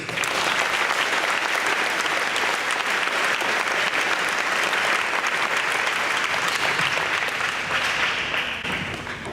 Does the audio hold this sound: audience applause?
yes